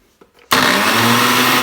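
A Preethi mixer grinder starts abruptly and runs at a loud, steady whine while grinding dried red chilies into powder, a couple of soft handling knocks just before it starts.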